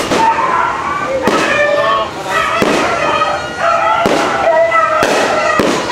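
New Year fireworks bang in a rapid series of loud, close bursts, one after another, while people cheer and shout over the explosions.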